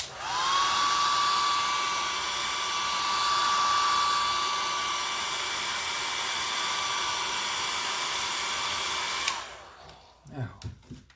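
A handheld hair dryer blows steadily on a painting, close and loud with a constant whine for about nine seconds, then clicks off, leaving brief faint handling noises.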